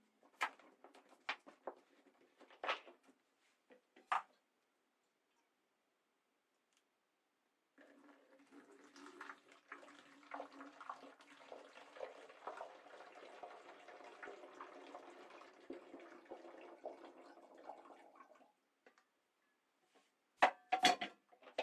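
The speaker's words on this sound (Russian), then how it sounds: "И набираем воду сюда." Tap water running into a container while making homemade wine, a steady splashing stream lasting about ten seconds between scattered clinks and knocks, fairly quiet and close.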